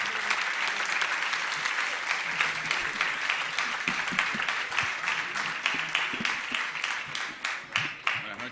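Warm applause from a conference audience welcoming a musician, dense at first and thinning into more distinct individual claps toward the end.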